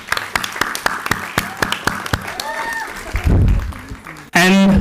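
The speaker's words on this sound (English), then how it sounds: "So give your all self a clap," Crowd applause at a sustainability startathon grand finale held at Mount Carmel College: steady, rhythmic clapping, then a brief loud burst with voices talking over it.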